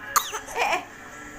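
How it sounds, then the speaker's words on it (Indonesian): A young child fakes a cough at home, giving a short, breathy forced cough burst followed by a drawn-out rasp, close and fairly quiet. "Panjang amat batuknya."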